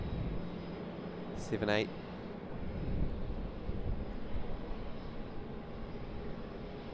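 A Boeing 717 in Discover Tasmania livery at Sydney Airport, a steady, moderately distant jet engine roar under wind noise, with a brief electronic sweep and a short spoken word early on.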